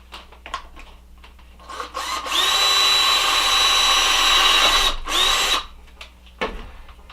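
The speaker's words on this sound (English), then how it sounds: "in this case here, I'm going to use a drill." A power drill bores through the brim of a baseball hat, spinning up for about three seconds of steady whine, then easing off with a short second burst amid handling clicks, close and loud with no talk.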